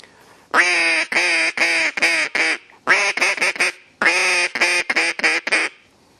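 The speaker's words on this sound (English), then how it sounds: "that's a custom duck call from the beginning to the end" Custom-made duck call blown in a test run, sharp loud quacks in three rhythmic series of descending, evenly spaced notes, close up with short pauses between runs.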